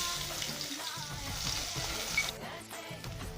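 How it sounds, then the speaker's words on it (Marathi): Garlic sizzles and fries in hot oil for corn poha chivda, a steady close crackle with soft stirring scrapes, the sizzle dropping back somewhat near the end. "आता टाकते लसूण"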